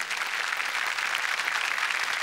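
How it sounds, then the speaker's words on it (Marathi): Steady, dense applause from a studio audience on a Marathi comedy show, a continuous wash of clapping at a fairly loud, even level for the whole stretch, with no voices over it. "जोरदार टाळ्या झाल्या पाहिजे"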